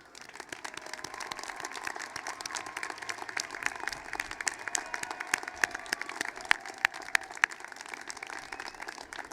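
Applause from an audience at a university business college commencement ceremony, a sustained patter of many hands clapping, fairly distant and moderately loud, with individual sharper claps standing out.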